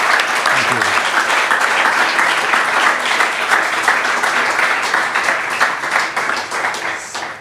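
An audience at a live talk applauds Chuck Collins with loud, dense, sustained clapping that runs the full length and tapers slightly at the end, with a few voices audible underneath.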